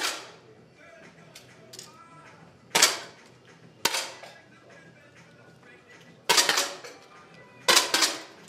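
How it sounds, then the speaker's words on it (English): Rifles firing during a youth rifle league bronze-medal match: about six sharp, crisp cracks at irregular intervals, each ringing briefly over a quiet hall background. "For the first competition shot, load."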